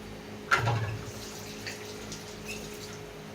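Water poured into a pot of potatoes being boiled, a brief splashing gush that quickly fades into quiet trickling and a few faint drips.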